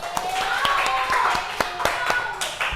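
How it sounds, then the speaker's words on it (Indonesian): A small group in a classroom claps in an irregular patter of sharp, close hand claps while voices talk and call out over them. "Ya betul, tepuk tangan."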